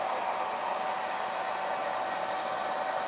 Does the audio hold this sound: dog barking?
no